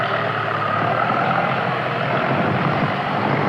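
Jet aircraft on the flight deck of a United States Navy aircraft carrier in the 1960s, a loud, steady roaring engine drone filling the air without break or voices.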